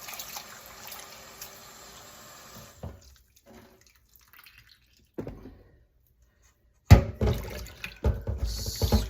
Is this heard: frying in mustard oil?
no